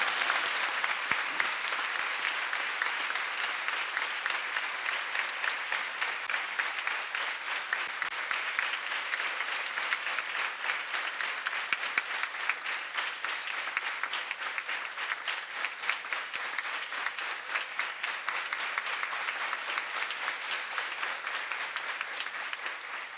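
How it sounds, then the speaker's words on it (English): Long, sustained audience clapping at a Sunday feast gathering of devotees, a dense, even patter of many hands that continues steadily for over twenty seconds without pause. "So you give a clap to him also."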